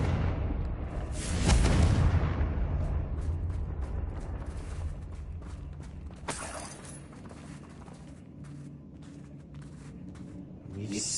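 Confringo blasting spells explode in Hogwarts Legacy, a big booming burst early on, another sharp blast near the middle, then rumbling crackle, with voices talking faintly over the game sound.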